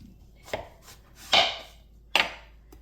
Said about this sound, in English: And then I'm going to cut this in half.